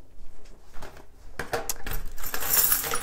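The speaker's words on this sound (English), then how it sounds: "Got the keys." A set of keys is picked up indoors, giving a few scattered light metallic clinks that grow into a brighter, busier jingle toward the end, close and fairly quiet.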